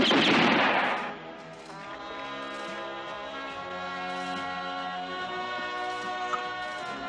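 A volley of rifles fires at once in a western shootout, one loud, sharp blast that rolls off into a long ringing tail while a steady tonal score plays on underneath.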